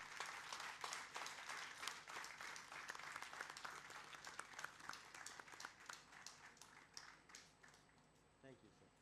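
A seated audience at a forgiveness talk by Dr. Frederic Luskin gives a burst of loud applause that thins and fades toward the end, with a few stray claps trailing off.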